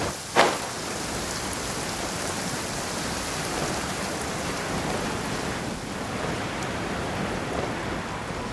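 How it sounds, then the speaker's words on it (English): A heavy in-game downpour in Genshin Impact: a dense, steady hiss of rain that holds evenly throughout, with a sharp knock near the start and no voices. "Quite a downpour."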